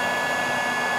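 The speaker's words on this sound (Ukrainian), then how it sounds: "зараз фена в нього засунув, включив тепленьким" A hair dryer on a warm setting blows into a washed fuel tank from a small universal 7.5 hp engine, giving a loud, steady, close whir that holds evenly throughout with no voices.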